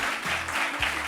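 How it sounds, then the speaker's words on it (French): Audience applause on a French Christmas television broadcast, a steady wash of clapping through the whole short moment, with brief low thumps underneath. "Est-ce qu'on peut applaudir?"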